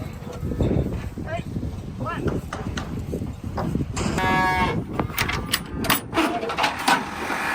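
Cattle moo at a farm pen as they are gathered, a few lowing calls under near-constant talk, with clattering and shuffling noises throughout.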